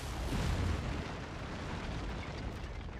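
Mech-mounted lasers fire during a MechWarrior 5 firefight as a dense, roaring blast of sound, heaviest in the first second and then holding as a steady rumbling wash through to the end.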